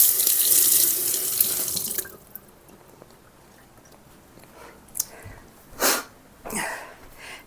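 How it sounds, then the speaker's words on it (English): Tap water running into a sink for about two seconds while hands are washed, fairly loud and close, then cut off, leaving quiet room tone and a few soft handling noises. "let me wash my hands."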